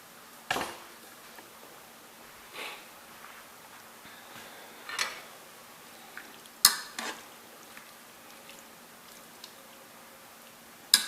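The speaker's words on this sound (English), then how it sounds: "Just pulling it apart from one fork to the other, going through it, shredding it." Two forks scrape and clink through hot, tender slow-cooked pork shoulder in a slow cooker, a sparse series of sharp metallic taps and scrapes spaced a second or two apart against a quiet background.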